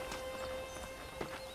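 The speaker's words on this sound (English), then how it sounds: "let's see if you can still ride a horse." Horse hooves clip-clop in a steady rhythm in the video game Red Dead Redemption, fairly close and alone, with a faint whinny mixed in over a constant low game ambience.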